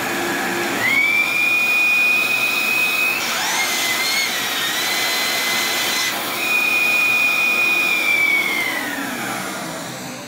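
A loud Rikon or Record Camvac dust collector on three motors drones with a high whining tone that rises, shifts as the motor load changes, then winds down near the end.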